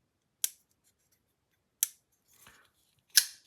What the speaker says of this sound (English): The detent's not like overly strong, but you can hear it's clicky.